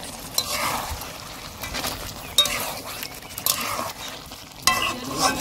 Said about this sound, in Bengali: এবার নেড়ে নিচ্ছি।